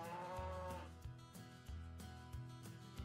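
Cows moo in the Mabinogi video game, a steady low lowing with deep drawn-out tones and several sharp thumps at intervals, moderately loud with no talk.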